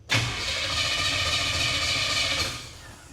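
A 1957 Chevy engine cranks and catches almost at once, then settles into a loud, steady running roar close by for about two seconds before the level drops as it eases off.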